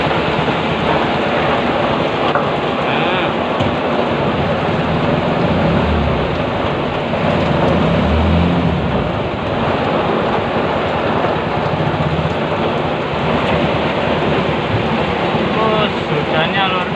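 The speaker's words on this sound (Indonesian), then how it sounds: "Hujan sangat deras lur." Heavy rain on a small car with a motorcycle engine while driving, a dense, loud, steady wash of rain and road noise throughout, close and continuous.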